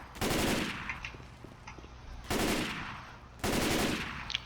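Gunfire from the zombie shooter Left 4 Dead 2 comes as three loud, separate bursts of rapid shots, each fading into a short echoing tail, with no talk.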